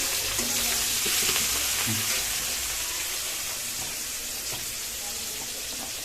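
Chopped onions frying in a pan while being stirred, cooked as the base for a country-chicken curry: a dense, even hiss of oil that is loudest at first and then settles to a steadier sizzle.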